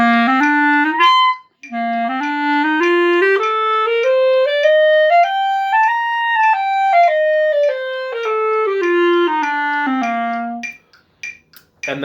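Clarinet played alone and clearly, running a smooth scale up and back down in a steady long-short rhythm, with a brief break near the start.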